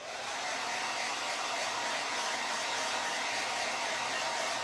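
Hair dryer blowing on a wet fuzz cloth, a steady close whooshing airflow that starts up and holds constant without talk.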